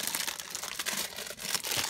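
Plastic packaging around a small boxed Superman soft vinyl figure crinkles and crackles steadily at close range as someone tries to open it.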